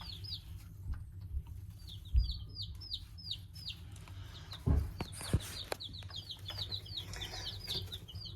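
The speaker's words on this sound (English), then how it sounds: "So we have 5 new chickies." Small chicks, some of them Barred Rocks, chirp in repeated high peeps, fairly soft and close, with occasional light bumps and rustling beneath.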